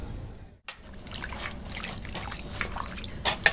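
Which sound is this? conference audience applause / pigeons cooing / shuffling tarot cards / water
water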